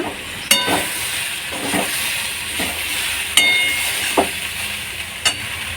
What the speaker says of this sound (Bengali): পাঁপড় ভাজা হয়ে গেল